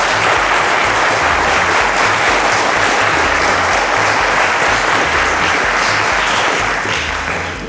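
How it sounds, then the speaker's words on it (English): A studio audience at a televised quiz show applauds a contestant, a loud, dense, continuous wash of clapping that holds steady and begins to fade only at the very end, with no voices over it. "round of applause to Kolawole"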